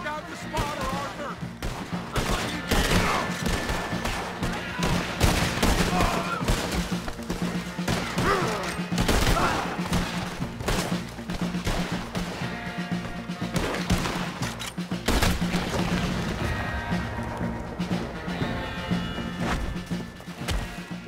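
Continuous battle din in the Red Dead Redemption 2 video game, with dense overlapping gunfire and heavy cannon blasts, loud and near for the whole stretch, and no talk.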